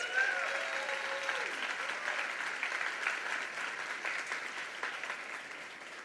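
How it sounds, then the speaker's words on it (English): Sustained audience applause fills a commencement ceremony hall, a steady dense wash of many hands clapping throughout, with a faint voice briefly audible at the start. "Let's give Mary a round of applause."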